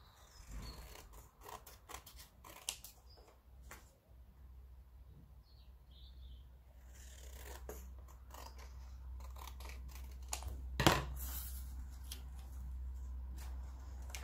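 Scissors cutting paper for a pop-up card, a run of short snipping clicks early, then a quieter stretch and a sharper cut near the end, faint and close.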